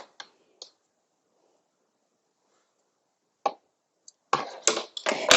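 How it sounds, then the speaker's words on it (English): Crochet yarn snipped with scissors, giving a few sharp, close clicks spaced apart in near silence, then a cluster of louder rustling and clicking handling sounds at the end. "I'm going to cut my yarn and I'm going to cut the other one as well"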